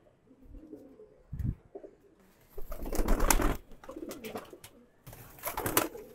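Low coos from a male giribaz pigeon in a loft, several rounded bursts close by, with rustling and fluttering between them in an otherwise quiet setting.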